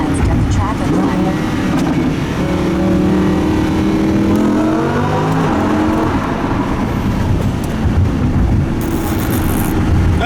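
A Lamborghini Huracan accelerates hard through a short tunnel, its engine revving loudly and climbing through gear changes with a booming echo, while people talk over it.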